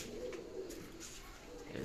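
Adult teddy pigeons coo softly, a faint run of low, throaty murmuring calls that repeats over a dull background hum.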